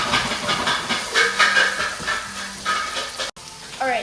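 Pre-made beans go into a pan of frying plantains in hot oil, giving a steady close sizzle and hiss with light stirring, a brief knock near the end.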